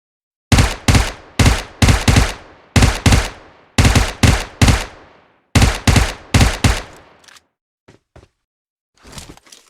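UMP submachine gun in PUBG Mobile firing several loud, close bursts of rapid shots, each ending in a short decay, followed by a few scattered single shots and a softer burst near the end.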